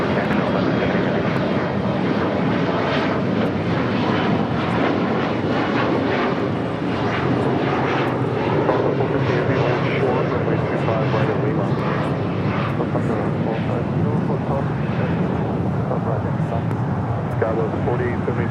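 A heavy airliner takes off from LAX runway 25 right, its jet engines giving a loud continuous roar that holds steady throughout while radio voices talk over it.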